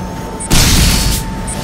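A sudden, loud bomb blast in the video game Enslaved: Odyssey to the West bursts in mid-clip, a broad rumbling boom that lingers and slowly fades against steady background game audio.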